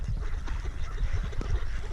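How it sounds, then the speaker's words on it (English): Ducks quacking outdoors in falling snow, their calls blending into a dense, steady wash of nearby noise for the whole two seconds. "Look at all the snow building up on the backs of these ducks."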